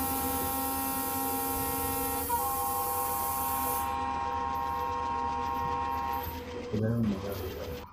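A train hauled by a WDM 3D diesel locomotive passes a crossing in Trainz Simulator, giving a steady droning hum with sustained tonal notes that shift near the end, while a voice talks over it.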